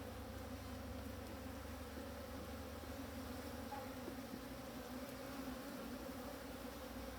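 Honeybees in a queenless, drone-laying hive give off a dense, continuous buzzing hum, close and unbroken throughout, with no voices.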